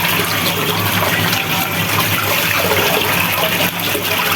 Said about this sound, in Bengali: এই দেখেন মাছগুলি এই যে ভালো করে ধুয়ে নিচ্ছি